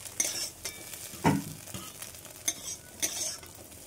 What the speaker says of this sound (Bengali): নেওয়ার পর সবজিগুলো ভেজে নেব।